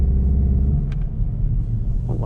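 Volkswagen GTI engine rumbling steadily as the car spins around a parking lot, a loud, close low drone that holds throughout with a slight rise near the end.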